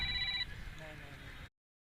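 A phone rings briefly with a bright electronic tone during a local cricket league match, fading into crowd and ground noise before the clip cuts off.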